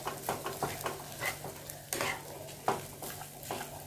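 Potato and fried egg filling for kochuri being stirred in a pan with a spoon, giving repeated soft scraping strokes with a light sizzle underneath, close and fairly quiet.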